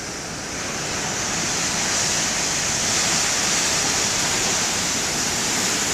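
Huge ocean waves crashing and splashing, a loud, steady roar of surf and spray that builds slightly and fills the whole stretch without a break, with no voices.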